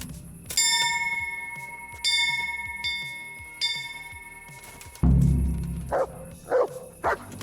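A church bell in the Kingdom Come: Deliverance video game rings out in several resonant strikes, each tone ringing and decaying before the next. A few sharp dog barks follow near the end.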